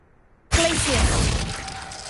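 Ice spell Glacius shattering in the video game Hogwarts Legacy: a sudden loud crystalline burst that rings and crackles, then trails off in a sustained icy shimmer over about a second and a half, with a faint voice underneath.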